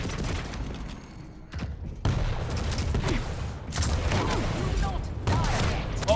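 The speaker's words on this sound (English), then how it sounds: "Oh, rockets from St0n!" Rocket launcher blasts and explosions boom repeatedly in a video game duel, several heavy thuds spread through a short burst of chaotic combat noise with faint talk underneath.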